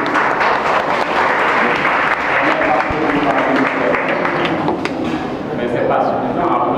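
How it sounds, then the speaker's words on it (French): An audience at a daytime technology-watch integration event breaks into sustained applause, dense and steady for several seconds with speech running over it. "Mais ce n'est pas suffisant à applaudisser encore."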